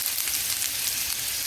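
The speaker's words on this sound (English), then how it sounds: "So I'm going to add the ginger first." Ginger sizzles in hot oil in a pan, giving a continuous, bright crackling hiss up close with no talk over it.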